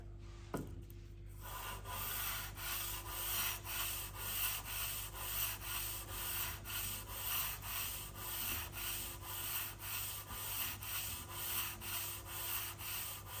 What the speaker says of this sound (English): This is 180 grit sandpaper, by the way.